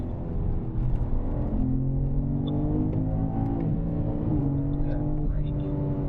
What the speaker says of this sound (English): Touching throttle early. And give that turbo a little chance to spool up.